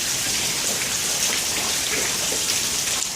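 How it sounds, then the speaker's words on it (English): Heavy rain pours steadily during a thunderstorm beneath a bridge where floodwater runs, a dense, loud, continuous hiss of drops that stays even and unbroken from start to finish. "we're going to stay here under this bridge while the storm goes by"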